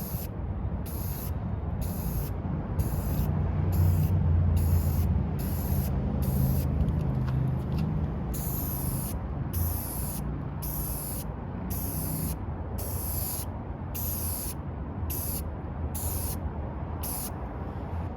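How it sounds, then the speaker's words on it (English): Continuous hissing of a black spray paint can spraying steadily for a long stretch, with regular brief gaps as the nozzle is released and pressed again. "I'm going to paint that now with just some spray paint in black"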